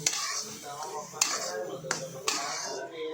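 A spoon knocks against a pan a few times as grated coconut is mixed with poured ghee, giving sparse metallic clinks under quiet talk.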